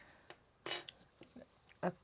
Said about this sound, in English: Spoons.